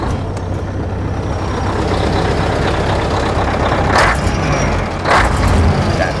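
A heavy truck engine at a heavy equipment trade show runs steadily at close range, a loud continuous rumble broken by two short hissing bursts of air around four and five seconds in.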